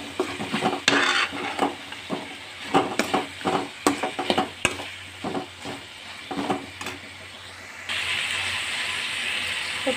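Brinjal pieces stirred in a frying pan for a Kadapa-style brinjal and drumstick-leaf curry, with repeated clattering scrapes of a spatula against the pan under a steady sizzle that grows to a louder, constant hiss near the end.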